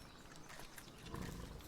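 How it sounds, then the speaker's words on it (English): A creature in the video game Palworld lets out a low, rumbling roar that swells toward the end, heard faintly and steadily over quiet game ambience. "So I was wondering what that roaring like noise was."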